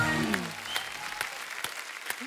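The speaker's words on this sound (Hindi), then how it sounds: "जोरदार तालियां हमारे मेहमानों के लिए।" Studio audience applause for guests on The Kapil Sharma Show, a Hindi comedy talk show, starting strong with a voice over it and then settling into steady mid-level clapping with a few sharper claps.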